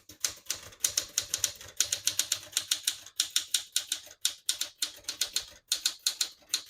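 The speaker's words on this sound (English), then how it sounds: "And it is about as loud as it gets when it comes to typewriters." Rapid, steady keystrokes on a 1966 Smith-Corona Sterling portable manual typewriter, each strike sharp and loud, typed fast and close with brief pauses between bursts.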